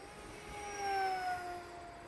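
A Sky Angel RC Rare Bear model warbird makes one fast pass at full speed. A high electric whine rises and then falls in pitch as it flies by at a distance.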